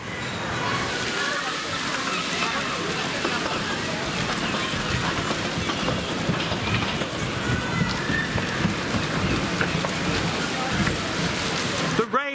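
Big Dipper roller coaster ride at Blackpool Pleasure Beach just after rain, heard as a continuous rushing, rumbling roar of wheels and wind with rattling, close and loud throughout.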